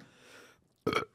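A single short burp rises loud and close after a sip of beer, following a faint murmur of background noise.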